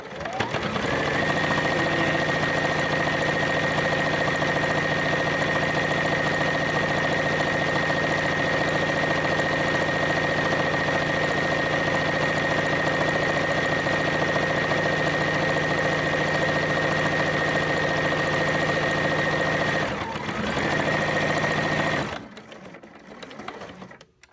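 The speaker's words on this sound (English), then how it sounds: "I like the way the sewing machine sounds" A sewing machine stitching tote straps runs continuously at high speed with a steady whirring drone, close and loud, stopping abruptly near the end.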